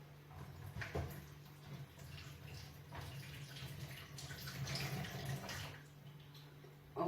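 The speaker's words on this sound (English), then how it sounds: "First of all, I'm starting to wash my apples." Running tap water while two organic apples are washed in a home kitchen, a faint steady flow with soft splashes and light handling noises, alone.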